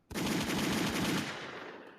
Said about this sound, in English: let's give her some gunshot, guys